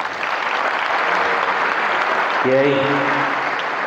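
A large audience of santri students at Gontor Campus 4 in Banyuwangi applauds during an evening motivation event, a thick wash of clapping that continues as a voice speaks briefly over it.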